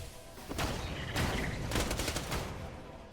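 Rapid SMG gunfire in the video game Borderlands, several loud bursts of automatic shots in quick succession with brief gaps between them, with no talking.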